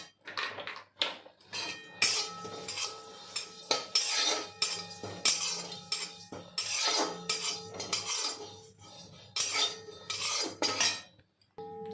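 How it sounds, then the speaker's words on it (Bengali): Cumin seeds are dry roasted in a pan, with a metal spoon scraping and clinking against it in irregular bursts, close and clear between short pauses, no speech. "প্রথমে জিরা দিয়েছি, জিরাটা ভেজে নিচ্ছি।"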